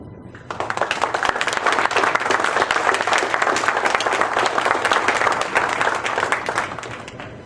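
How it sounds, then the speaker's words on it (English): Audience applause for an award at a state commission's quarterly meeting, steady and dense clapping from many hands that swells in just after the start and holds evenly throughout. "And I'd just like to applaud these guys."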